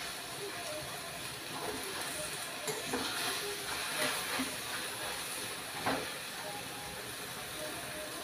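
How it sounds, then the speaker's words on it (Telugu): Gongura leaves fry in oil in a pan for chutney with a steady, faint sizzling hiss and occasional small crackles. "ఇలా బాగా ఎర్రగా వేయించుకోవాలి"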